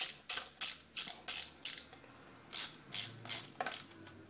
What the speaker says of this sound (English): just tighten all those screws back down